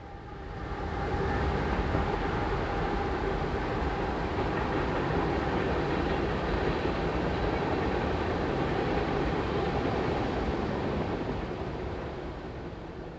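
Mixed freight train Q514, led by an SD50 locomotive, rolls past as a steady broadband rumble with faint wheel clatter, swelling after the first second and holding fairly evenly before easing slightly at the end.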